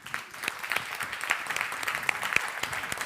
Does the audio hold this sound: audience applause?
yes